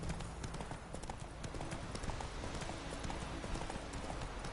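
Hooves of Roach, a horse in The Witcher 3, clip-clop in a steady rapid trot, close and continuous.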